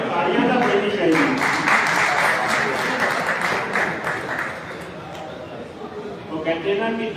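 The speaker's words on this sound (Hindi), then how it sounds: "भाई तालियां तो बजनी चाहिए।" Audience applause at a Punjabi tribute event, a dense continuous wash of many hands clapping from start to finish, loud and steady, easing slightly near the end before swelling again.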